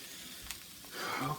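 Chicken, mushrooms and peppers sizzle and crisp in a hot pan, a soft steady hiss that swells briefly near the end, faint and close.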